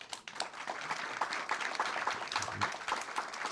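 An audience at a French technology talk applauds, a steady wash of many hands clapping at moderate volume from across the room, with no speech over it.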